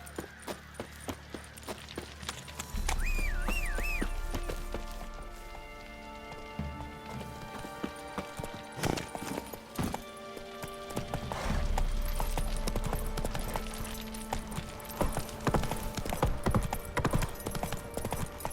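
Horse hooves clip-clop steadily as a rider travels in The Witcher 3: Wild Hunt on PS5, mixed with game music, a whinny and occasional heavy low thumps, with no talk.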